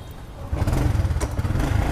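A Honda Dream motorcycle's small engine kicks into life partway through and settles into a close, low, throbbing putter; nothing is heard before it catches.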